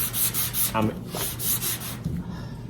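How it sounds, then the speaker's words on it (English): Steady back-and-forth rasping of hand block-sanding a dent on a Chevrolet C10 truck's metal bedside, rhythmic strokes close up, with a low hum underneath. "That way it's sanding more in these areas than it is in the middle."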